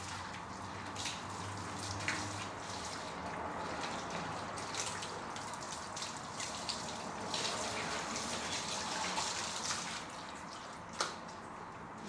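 Water being poured in, a steady faint splashing and trickling that runs unbroken throughout with no voices.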